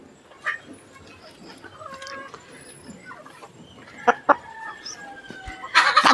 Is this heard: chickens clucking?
yes